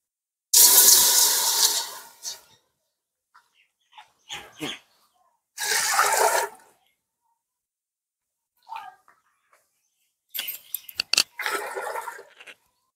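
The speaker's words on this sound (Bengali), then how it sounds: "উনুনটা আমি ধরিয়ে দিয়েছি, এবার খিচুড়ির জন্য আমি জলটা দিয়ে দেবো।" Water poured into a pot for potato khichuri comes in several short splashing gushes separated by silences, fairly loud and close.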